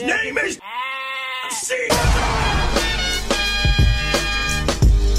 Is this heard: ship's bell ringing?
no